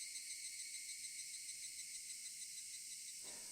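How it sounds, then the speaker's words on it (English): Cicadas in the Higurashi When They Cry video game drone in a continuous shrill, steady buzz, filling the scene evenly throughout with no speech. "Only the cry of the cicadas remained"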